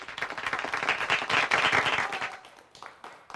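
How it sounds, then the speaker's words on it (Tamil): Audience applause at a Tamil debate-forum event (pattimandram), dense clapping filling the hall, loud and sustained before gradually thinning toward the end. "உங்கள் கைத்தட்டல்களோடு."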